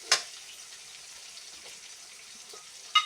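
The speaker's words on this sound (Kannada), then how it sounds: "ಈರುಳ್ಳಿ ಫ್ರೈ ಆಗ್ತಾ ಇದೆ" Onions frying in a pan for vegetable pulao, a steady soft sizzle close by with a few sharp clinks of a utensil at the start and end, no talking.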